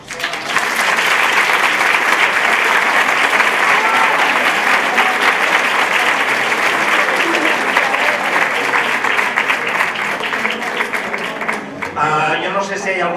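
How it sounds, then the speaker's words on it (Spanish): Sustained, loud applause from a conference audience at a tarot congress in Barcelona, dense steady clapping filling the room for about twelve seconds before thinning out as a voice begins to speak at the end. "Un aplauso."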